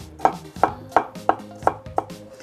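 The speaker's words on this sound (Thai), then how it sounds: "ข่าเนี่ยใช้เป็นข่าอ่อนนะครับหั่นเป็นบางๆนะครับหั่นบางๆแบบนี้เลย" A knife slices young galangal thinly on a cutting board, six crisp evenly spaced chops about every third of a second, close and clear with no talk.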